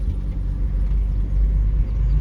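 A Honda Civic with a newly replaced transmission drives through a swampy yard, its engine giving a steady, continuous low rumble with no voices.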